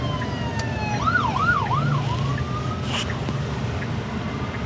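A wailing emergency siren sweeps up and down over steady road noise, rising and falling in pitch before settling into a long tone.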